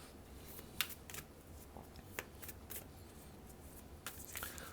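Tarot cards shuffled and drawn for a Scorpio reading, giving a run of soft, quick riffling snaps and flicks at close range over a low steady hiss, with a few sharper slaps as cards land.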